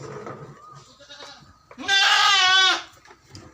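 A goat calling for its kid lets out one loud, close, quavering bleat lasting under a second, after quieter pen noises and faint background sounds.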